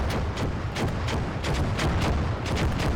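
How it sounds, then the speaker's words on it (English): Rockets pummel the ground in a Gates of Hell battle between British and Soviet forces, a steady rapid string of sharp impacts and booms over a constant rumbling backdrop. "Oh, rockets are pummeling the ground around that."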